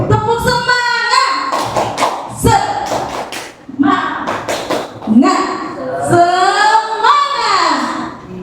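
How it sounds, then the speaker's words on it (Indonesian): A school workshop audience of teachers does a rhythmic tepuk semangat, with bursts of clapping mixed with loud chanting voices through most of the stretch. "Boleh tepuk semangat dulu ya Bapak Ibu. Tepuk semangat."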